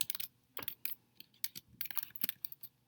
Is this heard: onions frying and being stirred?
no